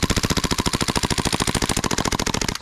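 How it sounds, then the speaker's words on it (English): An airsoft pistol fires full auto in one continuous rapid burst of about forty sharp, loud, evenly spaced shots lasting nearly three seconds, close to the microphone with no talking. "let's go ahead and finish this rest of the mag off with some full auto."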